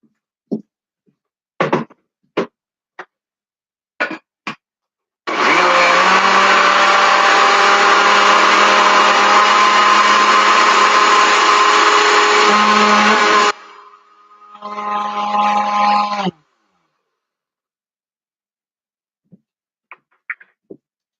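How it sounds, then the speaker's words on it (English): An electric blender runs continuously for about eight seconds blending a fruit and cheese dip, drops briefly, then runs again in a shorter burst, with scattered clicks and knocks before and after. "Gotta blend this up."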